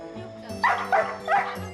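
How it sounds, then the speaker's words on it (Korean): A heavy Pungsan dog, over 20 kg, barks from an upstairs floor in a home, three yelping barks in quick succession over a low background hum, somewhat distant and echoing. "따님이 1층에 있으면 내려오진 못하고 꼭 이렇게 짖고 난리라는데요"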